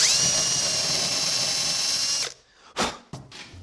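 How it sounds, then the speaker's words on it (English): A power drill whines steadily as it bores pilot holes into wood, then cuts out, followed by a few clunks and brief bursts of handling noise. "Drilling some pilot holes so that the router has somewhere to"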